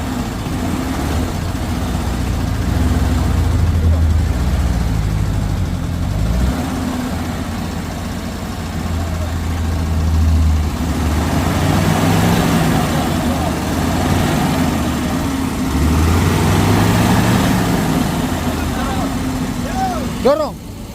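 A car engine revs and strains to climb a steep hill at Bukit Kodok, a steady low drone rising and falling over about twenty seconds, with people talking over it.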